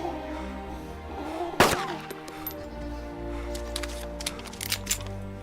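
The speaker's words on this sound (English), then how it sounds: "Oh dear, gunshots. Sound like they're coming up from that hangar up there." Gunfire in the Arma 2 DayZ mod, one sharp loud shot standing out, followed by a scatter of fainter, more distant pops and clicks over a low steady background hum.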